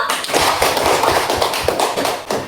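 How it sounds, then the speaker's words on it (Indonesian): A classroom of students claps together in a quick, dense burst of applause, close and lively, lasting a couple of seconds. "Bagus, tepuk tangan dulu."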